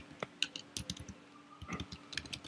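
Someone types Python code on a computer keyboard, producing soft, irregular key clicks in quick bursts with no voice.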